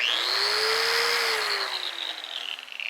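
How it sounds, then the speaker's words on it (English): A Metabo angle grinder runs steadily after a gearbox repair and regreasing, a smooth high whine that holds, then slowly drops in pitch as it spins down, close and loud with no talking. "One thing I've always liked with the metabo grinders is how smooth they run, even with a wire wheel, very well balanced."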